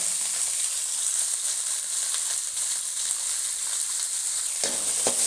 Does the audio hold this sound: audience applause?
no